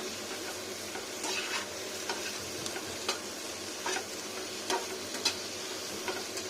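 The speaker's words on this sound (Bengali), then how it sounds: "একটু স্লো টেম্পারেচারে রেখে এটা একটু ফ্রাই করতে হবে টমেটোটা" Tomatoes frying in a pan over low heat give a steady, soft sizzle throughout, with a few brief clicks and scrapes of a utensil stirring them. No voices.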